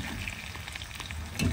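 Food frying steadily in a pan, a continuous close sizzle with faint stirring scrapes and a louder clatter right at the end, no one talking.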